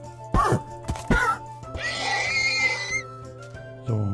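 A horse whinnies in a long, wavering cry in Minecraft, preceded by a few dull thumps, over a constant electronic hum.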